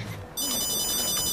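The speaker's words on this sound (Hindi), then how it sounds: "मेरा फोन बजता है।" A phone ringtone starts abruptly after a quiet moment and keeps ringing steadily and loudly as a bright electronic tone, with faint background murmur before it begins.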